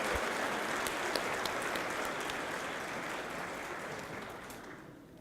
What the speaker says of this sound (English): let's give your faculty a round of applause for bringing you to this moment, this day